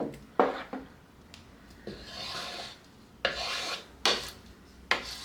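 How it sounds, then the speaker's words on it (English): A spoon scrapes the bottom of a pot of pasta sauce in repeated rasping strokes, about six close scrapes in an uneven rhythm with short quiet gaps between them. "I'm going to make sure you're scraping the bottom."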